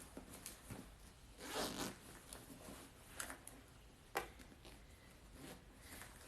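Zippers on a baby sleeper are run up and down in a series of short, close rasps and ticks, fairly faint, with brief pauses between strokes.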